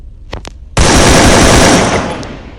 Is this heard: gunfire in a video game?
yes